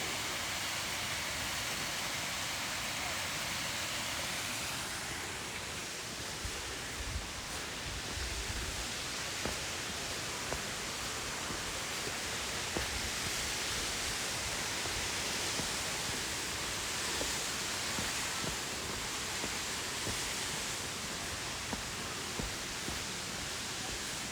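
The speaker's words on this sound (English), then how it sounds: "you can see the falls just a little bit right through here" Steady broadband roar of a waterfall at Paradise, Mount Rainier National Park, heard continuously and fairly loud, with faint footsteps and rustling over it and no talk.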